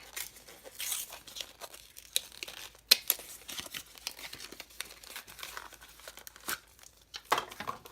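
Crinkling and tearing of frosted plastic packaging as a Chi DS 2x2 speedcube is unwrapped, with irregular close-up rustles and a few sharp crackles spread across the whole stretch.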